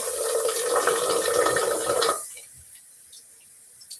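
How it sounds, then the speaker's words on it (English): A bathroom tap runs steadily into a sink during a live wet shave, a loud rushing stream for about two seconds that is then shut off, leaving faint drips and a quiet room. "Don't need quite that much water going."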